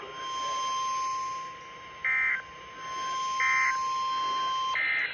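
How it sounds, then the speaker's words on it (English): Three short electronic alert beeps sound at even intervals over a steady tone and hum, loud and close: the Emergency Alert System test tones on NOAA Weather Radio's weekly test. "The following tones will conclude this test."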